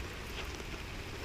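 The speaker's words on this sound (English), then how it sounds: "it's pouring down rain right now" Heavy rain pours down steadily over a creek, a dense, even hiss of drops with no voices and no breaks.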